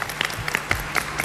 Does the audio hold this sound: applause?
yes